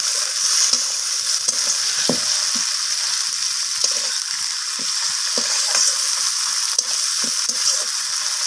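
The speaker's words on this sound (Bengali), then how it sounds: "এরপর আমি এখানে দিয়ে দিলাম কেটে রাখা টমেটোগুলোকে" Chopped tomatoes and onions fry in hot oil in a pan while a fish curry is made, a steady loud sizzle broken by occasional soft scrapes and clicks.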